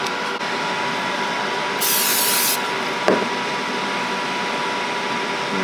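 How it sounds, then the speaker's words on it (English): A short burst of cooking spray hisses for under a second amid steady kitchen background noise, followed by a light clunk. "Let's spray it."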